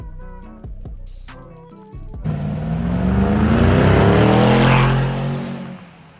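A 2019 Mercedes G550 with an Fi exhaust accelerates past with a rising, then fading engine roar and exhaust note, loud and close as it goes by.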